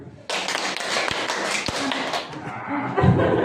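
A group in an Indonesian school session claps a short rhythmic pattern together, sharp taps ringing out in unison close by over a dense, busy room, with a voice briefly audible.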